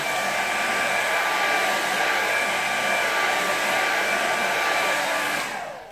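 A hair dryer blows steadily on a painting, a loud continuous whirring rush held close for several seconds before it begins to wind down at the end.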